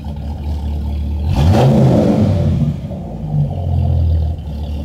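Dodge Viper truck with a straight pipe exhaust revs hard once, a loud rising roar over a deep idle rumble, then settles back into a steady burbling idle up close.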